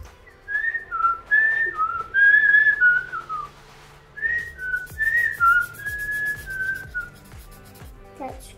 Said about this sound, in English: That's called whistling.